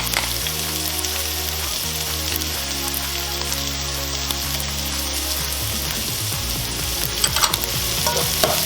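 Onion and garlic sauté in hot oil in a frying pan, giving a continuous loud sizzle with a low hum underneath and a few sharp stirring clicks toward the end; nobody talks.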